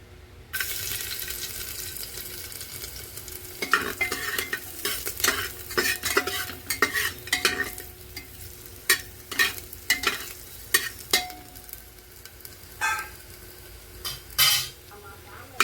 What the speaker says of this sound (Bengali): অল্প তেল দেব। এবার এই থেতো করা রসুনগুলো দিয়ে দেব।